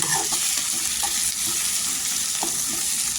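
Tomatoes with salt sauté in oil, a short close sizzle with soft stirring clinks and spatula scrapes over a steady hiss, no voices.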